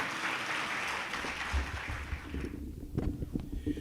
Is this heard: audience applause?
yes